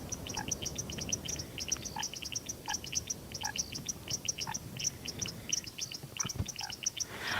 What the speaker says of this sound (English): Such a lovely chorus of frogs.